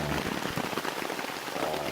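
Rain patters densely on a camping tarp during a stormy October trip, a close steady drumming of many drops with no talking.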